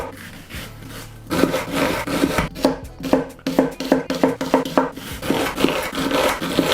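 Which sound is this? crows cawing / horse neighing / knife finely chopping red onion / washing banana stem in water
knife finely chopping red onion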